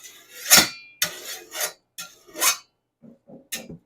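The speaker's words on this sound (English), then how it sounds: "You want to make certain that you're filing in a downward along that beveled edge" A hand file rasps in downward strokes along the beveled edge of a garden tool blade, several close, loud scrapes with short pauses between them and lighter strokes toward the end.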